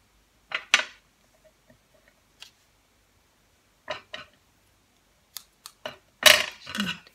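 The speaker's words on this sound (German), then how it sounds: "große Schere." Large scissors snip through paper or card for a box tag, giving sparse, crisp cuts with longer silences between them, ending in a busier rustling burst.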